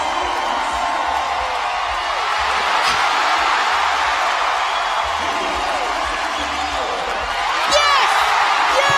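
A roaring arena crowd cheering at the 2018 CrossFit Games women's clean and jerk speed ladder, a dense sustained wall of cheers and whoops with a louder swell near the end, with a commentator talking over it.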